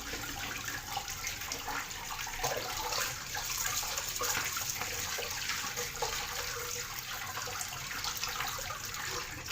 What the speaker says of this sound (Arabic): نغسل الازازه عشان ما اقص ايديا ياما